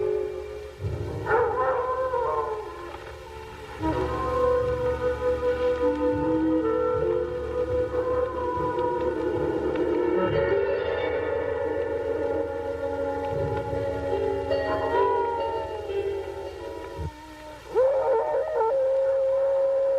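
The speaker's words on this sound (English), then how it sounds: "You hear the wolves?" Wolves howl in a 1964 werewolf horror film, long sustained wavering tones rising and falling over a steady loud backdrop of eerie atmosphere, with several overlapping howls and no talk.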